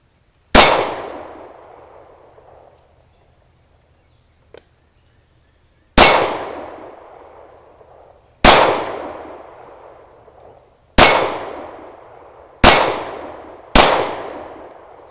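Glock 36 pistol fired outdoors, five sharp loud reports spaced a few seconds apart, each ringing out and fading in a long tail.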